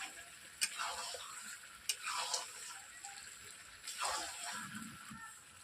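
Chicken curry frying in oil in a pan is stirred, with a few sharp spoon scrapes and clacks over a soft, low sizzle. The stirring comes in separate bursts, and there is no speech.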